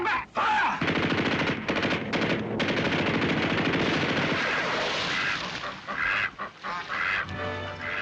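Rapid machine-gun bursts and gunshots from a 1960s TV series battle, loud and dense, rattling continuously for several seconds before breaking into a few scattered shots near the end.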